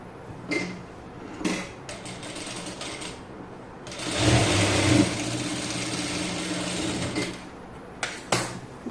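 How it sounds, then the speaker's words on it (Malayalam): A sewing machine stitches a doubled quarter-inch folded hem on fabric, giving short mechanical clatters and then a longer continuous whirring run in the middle, followed by a few brief clicks as it stops. "കാലിഞ്ച് പ്ലസ് കാലിഞ്ച് മടക്കിയിട്ട് തയ്ച്ചെടുക്കാം മറ്റേ സൈഡും ഇതേപോലെ തന്നെ തയ്ക്കാം"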